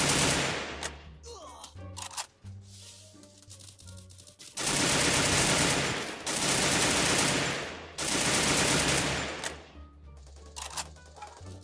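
An Uzi submachine gun in the Free Fire video game fires in long rapid bursts of several seconds each, loud and close, separated by quieter gaps with shorter stray shots and game noise.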